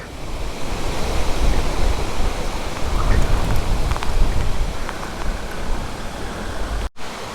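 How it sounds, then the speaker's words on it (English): A loud, steady hiss of heavy rain mixed with gusting wind during a storm in Poland roars continuously, dense and close, with no voices. "it started raining really heavy now and it's looking really ugly, and the wind."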